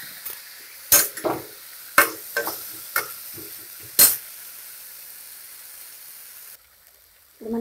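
Tomatoes tipped into a pan of frying onion curry for puris, several sharp sizzling bursts as they hit the hot oil and are stirred, then a steady low fry.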